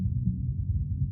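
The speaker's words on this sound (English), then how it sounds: "the only thing that I want to listen to is actually that kick" A soloed kick drum from a symphonic metal mix plays a fast, steady run of deep low thumps, dense and rhythmic, heard alone with nothing else in the mix.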